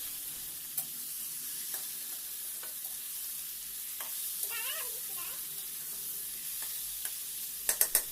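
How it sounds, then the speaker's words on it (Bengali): Mutton with green chillies fries gently in a pan, a soft steady sizzle broken by occasional clicks of stirring and a few sharper utensil taps at the end, fairly quiet and without talk. "মটনটা দিয়ে 2-3 মিনিট একটু নেড়ে নিচ্ছি।"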